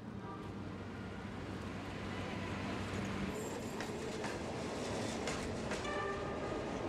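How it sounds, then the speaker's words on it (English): A train pulling into Golmud station in Tibet rumbles steadily with low mechanical drone and rattling, with faint squeals and clanks rising toward the end as it rolls in. "A train has pulled in at Golmud station."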